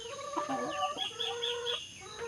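Several chickens cluck and squawk close by at a small backyard farm, overlapping calls in a busy, continuous chatter.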